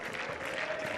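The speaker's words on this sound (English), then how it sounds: "the crowd find their voice here in Rosario" A stadium crowd at an under-20 rugby match between Argentina and Fiji in Rosario roars in a brief, continuous swell of cheering noise.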